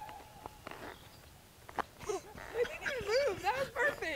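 A person's voice imitates a cattle call, giving a few rising and falling wavering calls near the end after some quiet shuffling noises.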